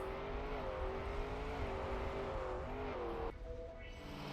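In the Trackmania video game, a rally car's engine drones and whines steadily, with pitch shifting as it slides and then changing abruptly partway through, alone and without speech.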